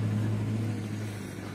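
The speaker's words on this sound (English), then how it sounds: "I hear a car" A car passes on a road in Baguio City, Philippines, on a foggy day: a steady low engine rumble, fairly close, that slowly fades as the vehicle moves away, with no talking.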